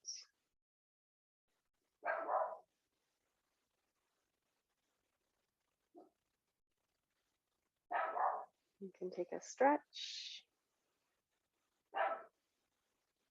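A dog barks in a quiet room during a restorative yoga session, with a short cluster of sharp barks in the middle and calm, soft speech before and after.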